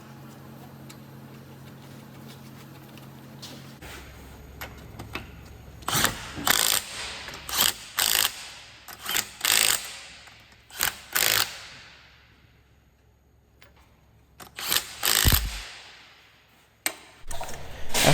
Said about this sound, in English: we'll snug them down with an impact just enough to hold the wheel on